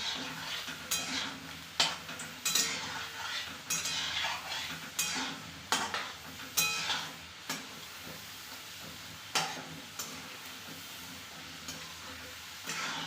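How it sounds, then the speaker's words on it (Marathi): Homemade french fries frying in oil over a low flame, a steady soft sizzle punctuated by repeated clinks and scrapes of a utensil stirring in the pan, close by with no talk. "लो फ्लेमवर आपण हे तळून घेऊया"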